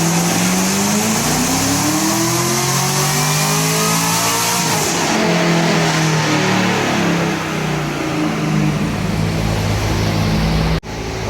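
A Camaro ZL1 with boost pushing for 1,000 rear-wheel horsepower on a dyno, its engine roaring loud and close as it climbs through the revs, shifts, and pulls again before cutting off abruptly near the end.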